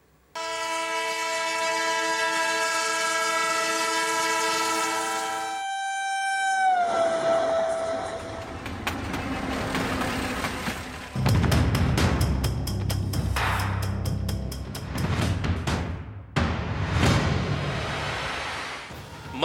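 An Indian Railways passenger train sounds a long, loud multi-tone horn, then rolls past close by with rumbling and rapid rhythmic clickety-clack of wheels over rail joints.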